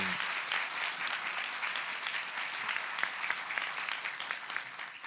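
Sustained applause from an audience honouring INEP staff at a Ministry of Education results announcement, dense even clapping holding steady throughout.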